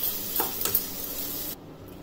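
Soft, steady sizzling of a ground paste frying in oil for mutton biryani, with a light stir or two near the start, then the hiss quiets.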